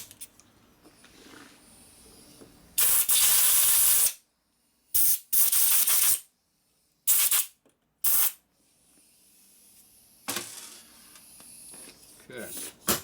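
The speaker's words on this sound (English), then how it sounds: "Get our special nozzle tip to go down inside of a hole to blow the hole out." Compressed air through a special nozzle tip blowing out a hole in a Revtech shovelhead Harley transmission, several loud sharp hissing blasts of varying length, separated by silences, with quieter workshop background between them.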